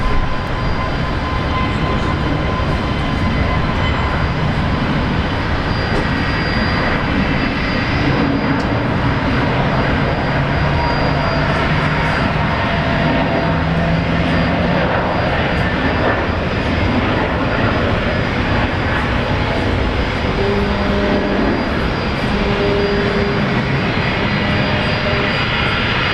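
Airliner jet engines roar loud and steady on a runway at Brisbane International Airport during takeoff, a broad continuous rumble filling the whole stretch without a break.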